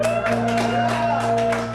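A comedy-club crowd bursts into applause mixed with a few shouts and whoops, voting on whether an image is a photo. Clapping stays dense and fairly loud for the whole stretch.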